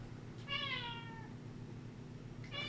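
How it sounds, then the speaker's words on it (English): A cat gives a drawn-out meow near the start, and a second meow begins right at the end, both clear over a low steady hum with no talking. "Meow, meow."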